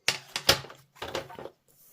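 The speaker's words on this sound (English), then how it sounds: "you can cut that off with your paper trimmer" Paper trimmer slicing cardstock for a handmade card, a few short crisp cutting strokes and clicks close by, in quick bursts separated by brief pauses.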